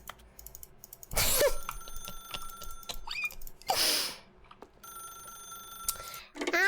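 A telephone rings in The Stanley Parable: Ultra Deluxe, two loud close rings separated by quieter electronic tones and clicks, with another burst at the close.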